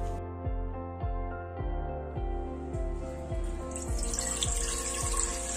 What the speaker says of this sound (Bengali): এখন আমি সেই প্যানটাতে পানি দিলাম।